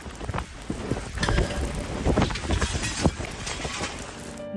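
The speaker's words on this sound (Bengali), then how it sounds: "পুরো মিডিল ইস্টে ঝোড়ো হাওয়া সমেত মুষলধারে বৃষ্টিপাত হয়েছে।" Stormy wind with heavy rain buffets outside a home in Abu Dhabi, a dense, rushing roar with gusty surges and scattered hard splatters.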